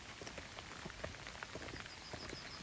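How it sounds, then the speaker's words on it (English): Rain patters steadily and softly on a surface, a faint continuous hiss dotted with scattered drops. "Just raining, raining, raining."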